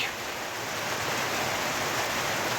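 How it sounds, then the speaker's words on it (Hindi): Heavy rain pours down steadily on a hillside garlic field in an orchard area, a dense, loud, continuous hiss that fills the whole moment with no voices. "ये देखो जी, भयानक सी बारिश लगी है आज यहाँ पे।"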